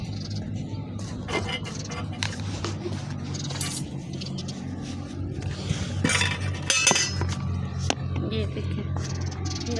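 In a home kitchen, spice containers of ghee, chili and salt and metal utensils clink and knock sharply at irregular moments, close by, mixed with scattered clatter, low room hum and someone talking.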